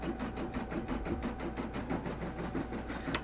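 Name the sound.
Brother PRS 100 embroidery machine stitching on leather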